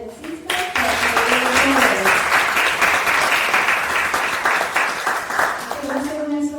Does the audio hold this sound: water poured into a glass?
no